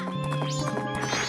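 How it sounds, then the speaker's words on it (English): Horse galloping in The Legend of Zelda: Majora's Mask, a quick run of rhythmic clip-clop hoofbeats over steady game music, loud and close. "Horse is hard to control."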